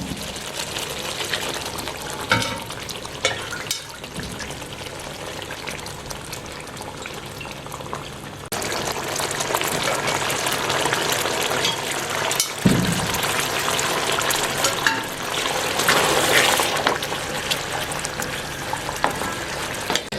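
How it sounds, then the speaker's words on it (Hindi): Meat broth (yakhni) is added to a pan of simmering Afghani namkeen piyaz gosht gravy, making a sustained sizzling, bubbling hiss that grows louder partway through, with a brief clatter near the middle. "तो इस मौके पे थोड़ी सी हम यखनी शामिल करेंगे, जो गोश्त की यखनी थी वो शामिल कर लेते हैं।"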